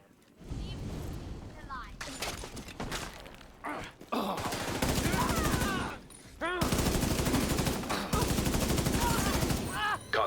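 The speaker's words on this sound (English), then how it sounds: "He's just shooting the room." Rapid bursts of video game gunfire as a character shoots up a room, loud and repeated in clusters with brief gaps, broken by short pauses and dense sustained volleys.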